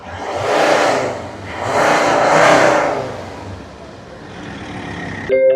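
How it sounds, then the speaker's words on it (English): A Volvo XC90 engine, under repair for a DPF fault, is revved three times in quick succession, each rise and fall loud and close, then it settles back to a steady idle. "we can just give it a few revs."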